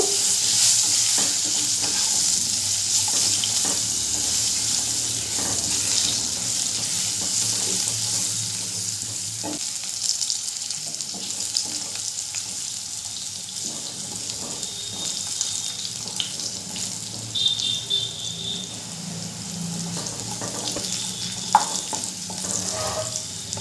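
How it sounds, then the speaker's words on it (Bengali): Cut potatoes fry in a pan with cumin seeds, giving a steady sizzle throughout with scraping and clattering as they are stirred, close and moderately loud. "আলুগুলো দিয়েও খুব ভালো করে নেড়ে চেড়ে ভেজে নেব।"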